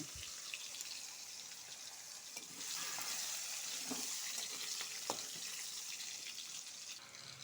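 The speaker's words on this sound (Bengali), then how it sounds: "আলুটা ভাজা হয়ে গেছে" Potatoes frying in fish oil with cumin in a pan make a faint, even hiss that swells a little partway through, with a few light stirring clicks.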